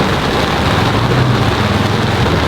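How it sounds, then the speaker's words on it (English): Heavy rain pounds steadily on a car in Bohol, Philippines, while the windscreen wiper runs; a dense, loud, even wash of noise continues without a break. "it's absolutely done in by rain. Got the little windscreen wiper on the go."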